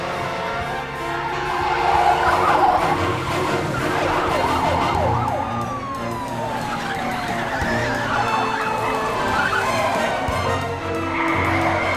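Tires squeal and skid through a car chase in the James Bond film Diamonds Are Forever, with sirens wailing and engines roaring loudly throughout in a dense, continuous mix.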